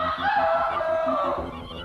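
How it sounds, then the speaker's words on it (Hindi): A rooster crows in one long, drawn-out call, fairly close and clear, with a rhythmic low pulsing underneath throughout. "ये तो मुर्गे की आवाज है।"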